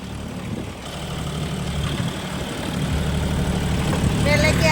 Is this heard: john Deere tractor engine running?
yes